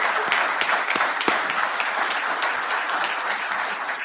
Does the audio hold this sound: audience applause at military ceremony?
yes